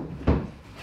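A kitchen cabinet door opens with a single short, close thud and knock, heard alone during a DIY kitchen installation.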